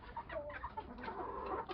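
Young cuckoo-coloured hens cluck continuously at close range in a busy, overlapping stream of soft calls, with no talking.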